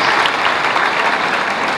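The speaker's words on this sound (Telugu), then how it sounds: "నా తరఫున కొట్టండి చప్పట్లో." Steady, dense applause from an audience at a Teachers Day celebration, filling the whole moment with continuous clapping and no voices on top.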